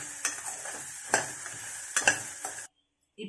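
Masala being stirred into hot peanuts in a pan, with a steady dry sizzle broken by several distinct scraping stirs before a sudden cut to silence.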